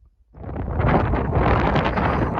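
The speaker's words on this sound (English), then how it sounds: "Really windy over here." Strong gusting wind on the Pacific Crest Trail between Crater Lake and Ashland roars into the microphone after a brief quiet start, a loud, steady broadband rush that continues to the end.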